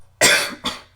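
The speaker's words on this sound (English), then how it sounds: "A cough emanates from behind the cell door." A man coughs from behind a cell door: two harsh coughs, the first loud and drawn out, the second shorter and softer, close and with no other sound around them.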